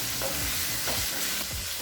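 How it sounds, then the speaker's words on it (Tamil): Tomatoes sauté in a pan for a tamarind okra curry, a steady close sizzle and crackle with soft stirring scrapes throughout a short moment. "இப்போ தக்காளி நல்லா வதங்கிடுச்சுங்க."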